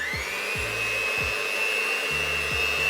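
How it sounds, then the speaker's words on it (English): A hand mixer runs on low speed through boiled potatoes to mash them, giving a steady close whirring whine that continues throughout, with a low thump recurring under it. "that's when you can enlist the hand mixer. You set it to the low speed."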